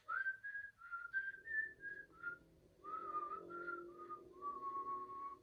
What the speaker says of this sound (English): Someone whistling.